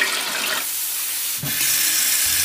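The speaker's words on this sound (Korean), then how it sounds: "고층인데도 샤워기, 싱크대 등 전체적으로 수압이 꽤 센 느낌이었습니다" Running water from a hotel bathroom sink faucet with strong water pressure, a steady broadband hiss with a brief dip midway, close and fairly loud with no voices.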